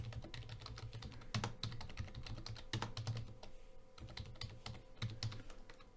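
Rapid, irregular keystrokes on a computer keyboard while a Git commit message is typed, steady clicking bursts with brief pauses, close and fairly quiet, no voices.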